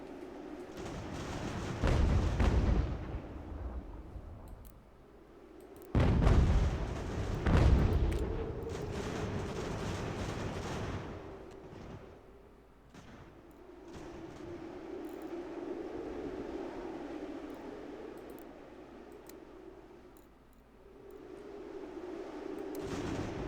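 Artillery cannons firing in Ultimate General: American Revolution, with heavy booming blasts clustered near the start and around six to eight seconds, then a lower rumbling battle din that carries on under the rest.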